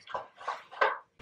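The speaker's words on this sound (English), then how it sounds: "I'm sorry if you can hear my dogs eating in the background" Dogs eating from their bowls indoors, giving three short clattering, crunching bursts in a quick, irregular rhythm, then a brief pause before a fourth begins, fairly close and moderately loud.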